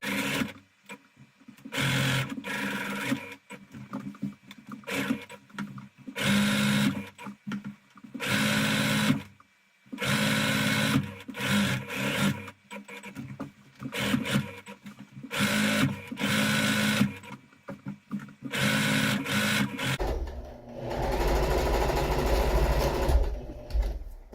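A sewing machine stitches couch cover fabric in repeated bursts of fast mechanical whirring separated by short pauses, with a longer, denser run of machine noise near the end.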